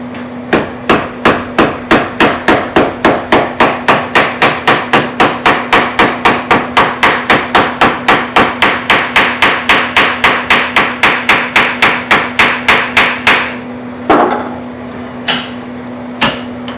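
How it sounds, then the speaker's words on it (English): Hammer pounding a steel jaw blank clamped in a vise into a 90-degree bend: dozens of loud, evenly spaced metallic blows in a steady rhythm, ending with a few slower, separate strikes. "I'll take my hammer and pound that over to form this 90-degree bend"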